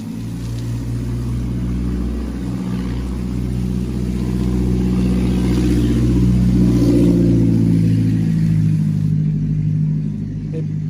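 A rough-sounding car engine drones steadily past nearby, its low, uneven rumble swelling toward the middle and fading as it moves away.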